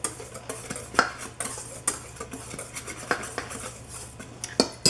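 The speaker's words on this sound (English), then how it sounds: "We're going to go ahead and whisk this up" Ingredients whisked together in a bowl for an oatmeal-and-molasses sweet bake, a steady run of light clinking taps and scraping strokes against the bowl, close and fairly quiet, with no talking.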